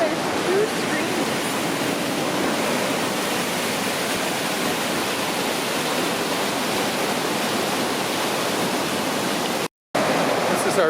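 Rushing water from a waterfall and streams on the Mist Trail in Yosemite fills the air with a loud, steady roar, constant throughout and briefly cut out near the end.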